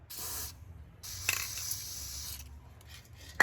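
Two bursts of hissing aerosol spray onto brake parts, one short and one longer, close up, with small metallic clicks between them.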